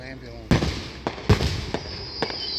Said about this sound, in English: Oh, whistlers.